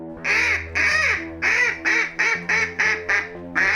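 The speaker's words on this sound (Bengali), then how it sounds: "সে দুষ্ট শিয়ালের কানে আসলো সে হাঁস ছানাদের শব্দ" Cartoon ducklings quacking in a rapid series of about nine loud, close, nasal quacks in quick rhythm, stylized and bright, with no talking over them.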